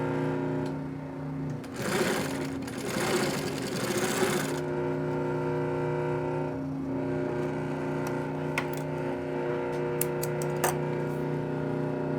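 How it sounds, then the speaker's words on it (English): A Singer 111w151 industrial sewing machine stitches two layers of vinyl in a loud, fast mechanical run of a few seconds, then goes quiet except for a low hum and scattered clicks. "a lot of times you buy these sewing machines and they sew perfect"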